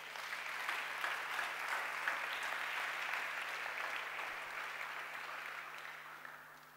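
An audience at a church seminar applauds and acclaims together, a continuous wash of clapping with no pauses that fades slightly toward the end.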